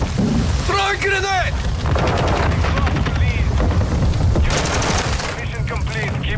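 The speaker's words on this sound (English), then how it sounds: "Throw a grenade!" Sustained gunfire rattles in the shooter Call of Duty Modern Warfare 2, bursts of rapid shots over a constant rumbling battle din, with shouted in-game voice lines cutting through.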